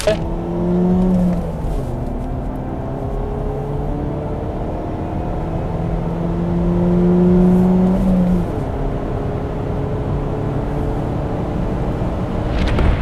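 A Mercedes-Benz CLK C208 accelerates through the gears, its engine note rising in pitch, dropping at each shift and climbing again, heard steadily from inside the car with no talk.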